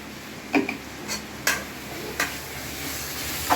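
Rice is stirred with garam masala in a pan, making a quiet background sizzle and several distinct spoon scrapes and taps at irregular intervals.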